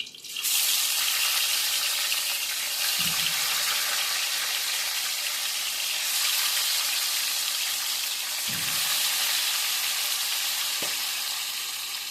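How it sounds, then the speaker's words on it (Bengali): Thick ring-cut pieces of snakehead fish fry in hot oil, a loud, unbroken crackling sizzle that fills the scene, punctuated by a few dull knocks from a utensil, with no speech. "মাছটা এখন ভেজে নেবে"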